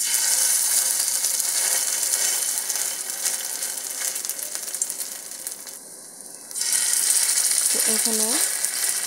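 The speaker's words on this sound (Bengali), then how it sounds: "এখন চুলায় প্যান দিয়ে তেল দিয়ে দিলাম। তো এখন একে একে দিয়ে দেবো বড়া।" Grass pea lentil fritters with aromatic leaves frying in hot oil in a pan give a steady, loud sizzle throughout, dipping briefly before surging back; a voice speaks briefly near the end.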